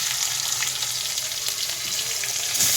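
Tomatoes fry lightly in a pan with a constant close sizzle and a few soft stirring scrapes. There is no talking.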